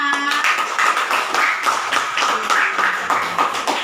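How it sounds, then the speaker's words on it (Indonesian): A classroom of students claps for group 5 after their presentation on the birth of Pancasila, a brisk, loud patter of many hands that runs the full length, with a brief voice at the start. "Iya, tepuk tangan buat kelompok 5."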